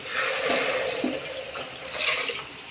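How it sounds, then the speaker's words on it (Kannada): Water is poured into a pan of pulao with ground coconut-chilli paste, a steady, close gushing pour that runs nearly throughout. "ಒಂದು ಅಂದಾಜ ಮೇಲೆ ನೀರು ಹಾಕ್ತೇನೆ"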